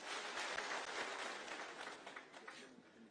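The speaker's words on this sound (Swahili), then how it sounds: "Makofi." An audience at a Busia County gathering for DP William Ruto breaks into sustained clapping and applause, loud at first and slowly thinning out.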